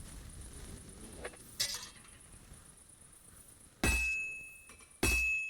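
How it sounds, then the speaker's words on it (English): Sword blade hammered on an anvil in Kingdom Come Deliverance II: two sharp, ringing metallic strikes with a clear lingering tone, spaced about a second apart after softer clanks over a quiet background. "Start hammering this thing out."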